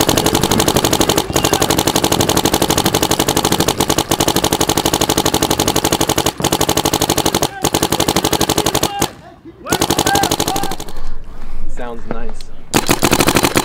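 Ironmen Matrix paintball marker on uncapped semi firing loud, rapid continuous volleys for about nine seconds, then a brief pause and more bursts, with a voice speaking briefly near the end.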